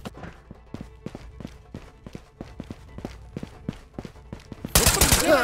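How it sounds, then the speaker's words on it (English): Gunfire in the video game Ghosts of Tabor during a golden gun raid, a rapid irregular string of sharp, fairly close shots crackling for several seconds, ending in a louder burst of noise. "those gunshots were right there"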